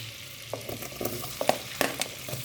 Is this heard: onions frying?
yes